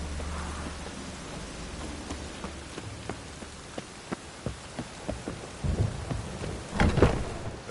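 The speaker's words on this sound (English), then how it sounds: "rain" Steady rain patters across a video game scene while sharp thunder cracks ring out repeatedly, building to a heavier rumbling roll near the end; no one speaks.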